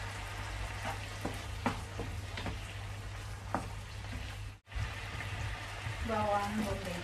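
Beef frying in a pan with fried shallots, garlic and ginger for black pepper beef, giving a steady sizzle with scattered pops and stirring clinks while someone talks over it.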